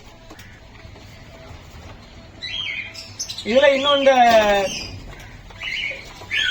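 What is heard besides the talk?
pigeons calling at a bird farm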